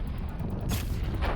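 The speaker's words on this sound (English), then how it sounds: "I'm running out quite quickly already. I have to shoot." Weapon fire in the video game Horizon Zero Dawn: two heavy booming blasts about half a second apart over a dense low rumble.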